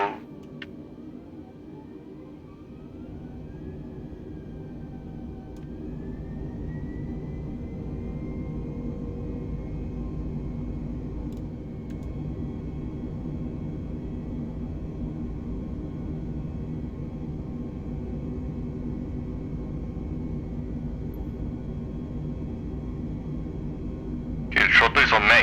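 Airliner engines at full throttle in the video game Microsoft Flight Simulator: a steady, even roar with a rising whine that climbs in pitch early on, then holds level and continuous for the whole stretch.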